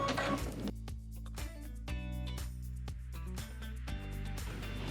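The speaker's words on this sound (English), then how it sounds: "Now we'll go ahead and stitch the dress form tack down line." A machine embroidery unit stitches a tack-down line on a tote project, giving a close, rapid, regular mechanical ticking and thumping with a steady motor tone underneath, alone and without talk.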